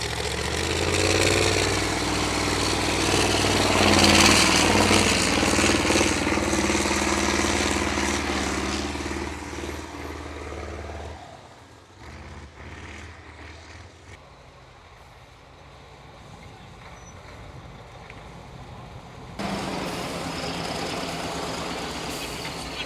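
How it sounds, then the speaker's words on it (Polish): A Jelcz rally truck with a twin-turbocharged V8 of about 500 horsepower, rebuilt from a wreck, idles with a deep, steady rumble that drops off and then returns, loud and close throughout. "Jelcz jest wyposażony w silnik V8."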